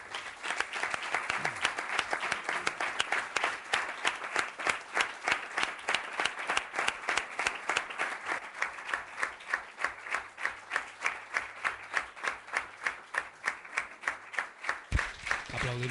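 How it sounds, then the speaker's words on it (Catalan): In a municipal council chamber in Molins de Rei, a large group claps in a steady, evenly pulsing rhythm for a long stretch, the sharp hand strikes close and continuous from start to finish. "Aplaudiments per Pere García"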